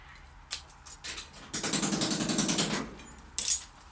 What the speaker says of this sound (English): Hammer and chisel.